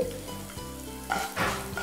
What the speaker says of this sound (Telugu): సో పోపు ఆల్మోస్ట్ క్రిస్పీగా వేగిపోయింది